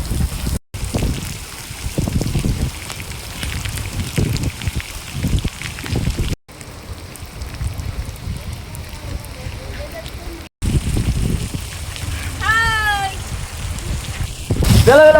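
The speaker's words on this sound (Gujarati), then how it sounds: "જોરદાર વરસાદ આવે છે જોરદાર એકદમ મસ્ત વરસાદ" Heavy monsoon rain in Khambha, Gir pours down steadily and loud throughout, a dense rushing hiss with voices talking over it and brief cuts between shots.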